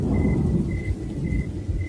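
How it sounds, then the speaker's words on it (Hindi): Steady light rain hissing with low rumbling underneath and a faint repeating electronic chirp. "हल्की हल्की बारिश शुरू हो गई"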